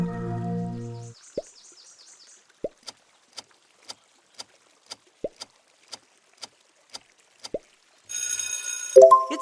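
PlayStation logo sound: a low tone fades out, then a steady sequence of sharp plucky clicks and drops ticks by in an even rhythm, ending in a bright synthetic chime swell, with no voices.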